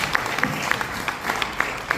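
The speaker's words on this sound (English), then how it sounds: "Round of applause, please." Audience applause after a speech on fiscal discipline for African leaders, a dense patter of clapping with a few sharper individual claps standing out, moderately loud and steady for about two seconds with no talk over it.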